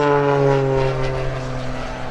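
Sean D. Tucker's Oracle Challenger III aerobatic plane at an airshow drones with a steady, strongly tonal propeller engine hum, loud and close, holding an even pitch.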